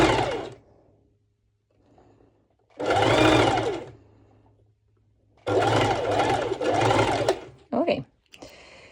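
A sewing machine stitches a one-shoulder twisted knot top in three loud close bursts of rapid whirring, separated by near-silent pauses, followed by a short final run.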